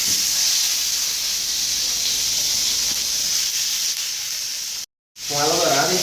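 Beef sears in a very hot frying pan with a loud, steady sizzle and hiss, broken by a brief silent cut before the frying resumes.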